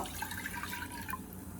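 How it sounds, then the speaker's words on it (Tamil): One cup of water pours into a cooking pot on the stove for chicken soup, with a soft gurgling, splashing trickle, close and fairly quiet, lasting under two seconds. "அதில் 1 கப் தண்ணியை ஊற்றிக்கிடுங்க"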